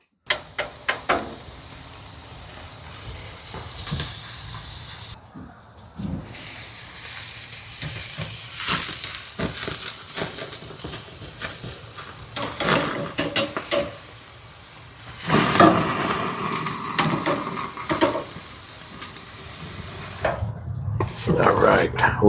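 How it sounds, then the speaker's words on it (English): Thin slices of chuck roast coated in olive oil and black pepper sizzle on an outdoor grill, a loud steady hiss broken by brief gaps and scraping knocks, with a voice speaking at times. "And I'll cook it outside on the grill."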